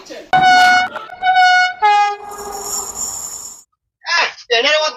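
A train arriving at Bankura sounds loud horn blasts in several bursts, close and piercing, over a steady rumbling hiss of the approaching carriages.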